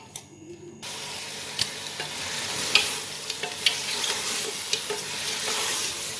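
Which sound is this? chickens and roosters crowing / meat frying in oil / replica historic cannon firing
meat frying in oil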